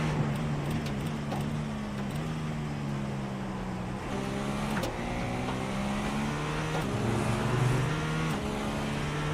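A GTP prototype race car in a racing video game runs at full power through the 24 Hours of Daytona, its steady engine drone rising through repeated upshifts, moderately loud and without talk.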